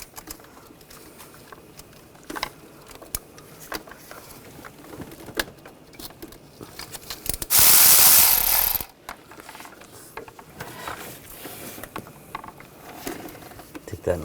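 A ratchet with a 15mm socket working a starter nut on a 2004-2012 Chevrolet Colorado 3.7L, giving scattered faint clicking and one short, loud burst near the middle, with light background noise between.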